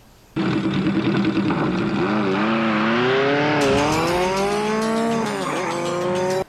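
A loud motorcycle engine from the film Nightmare on Elm Street 5 revs and whines as it rises and falls in pitch, with a squealing tire-like screech, up close and continuous for about six seconds.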